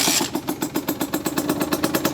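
A 50cc motorcycle engine idles with a quick, even putter of regular pulses, steady and close, with a brief louder rev at the very start.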